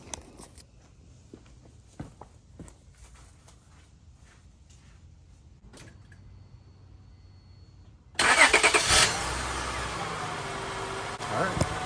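A 2001–2002 Acura MDX engine cranks and fires after a serpentine and power steering belt replacement, then settles into a loud, steady idle following several seconds of quiet shuffling and faint footsteps.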